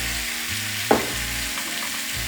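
Red cooking wine sizzles as it hits a hot pan of oxtails, a steady broadband frying hiss with a brief louder splash near the start, continuing evenly with no voices.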